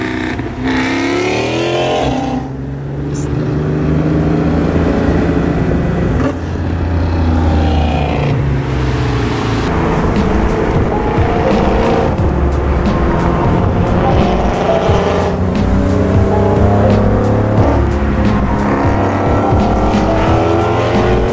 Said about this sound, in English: Downshifts are just honestly the best part.